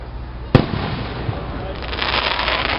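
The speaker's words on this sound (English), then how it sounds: "These fireworks are really long." Fireworks bursting at a Fourth of July celebration in Allentown, Pennsylvania: one sharp, loud boom followed by a rolling crackle and hiss of sparkling shells, with crowd noise and voices mixed in.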